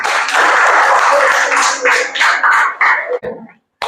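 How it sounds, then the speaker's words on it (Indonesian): A classroom of students at an Islamic university teaching session claps hands together, loud close clapping that thins into a few scattered claps before stopping abruptly. "Tepuk tangan."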